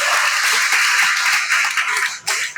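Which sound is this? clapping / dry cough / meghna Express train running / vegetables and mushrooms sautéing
clapping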